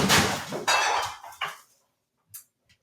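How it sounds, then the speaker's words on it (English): A metal laundry rack knocked over by a cat clatters and crashes with a few loud rattling impacts, then quiet with two small faint clinks afterward. "Morpheus knocked over the laundry rack that I have and spilled out, everything that's on there."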